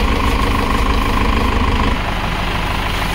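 Tractor engine idling steadily while the vehicle is washed and given a full service for Diwali, a loud continuous low rumble with constant vibration and no talk over it.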